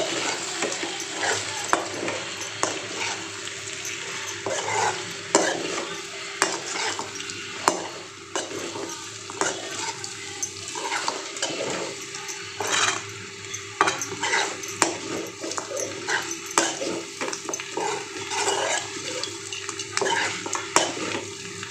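Chicken chinthamani being stirred with crushed garlic in a frying pan: a steady sizzle of frying under repeated scraping and clinking of a utensil against the pan, close and continuous throughout.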